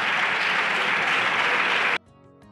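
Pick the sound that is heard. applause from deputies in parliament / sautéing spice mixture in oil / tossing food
applause from deputies in parliament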